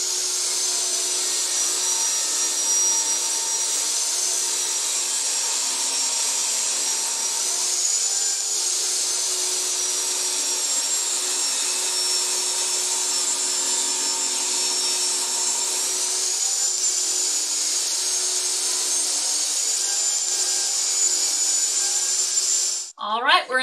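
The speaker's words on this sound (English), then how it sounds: "I'm here at the table saw. I'm just going to rip a hair off of each side of this and square off the ends." Table saw running steadily while ripping glued-up scrap wood boards for a tealight candle holder, a loud continuous high whine held for over twenty seconds before winding down at the end.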